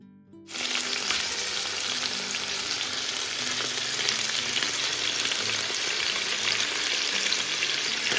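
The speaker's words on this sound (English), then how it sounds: "I'm frying this on medium-high heat for 8 to 10 minutes" Steady, loud sizzling of marinated chicken frying in hot oil on medium-high heat, starting abruptly after a brief quiet moment and continuing without a break.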